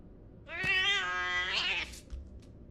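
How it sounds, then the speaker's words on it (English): A single drawn-out cat meow, clear and close, rises and holds for about a second and a half in a horror video game, with little else around it. "ただの猫か。"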